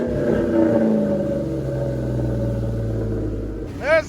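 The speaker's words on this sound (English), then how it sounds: "Let me see if I can hear the exhaust leak from back here." A car engine with an exhaust leak, in a Mach 1 swap, runs steadily with a low, rough rumble and a slight puffing tick from the exhaust, ending with a brief rising whine.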